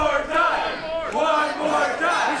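A wrestling crowd jeers a rookie at an independent show, rising and falling in loud, close waves of booing and shouting voices over about two and a half seconds.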